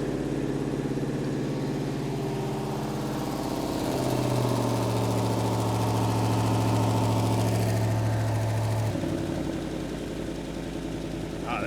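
An abandoned 1959 Pontiac Catalina V8 idles steadily up close, its rumble rising to a faster idle midway and then dropping back down near the end, with an exhaust leak.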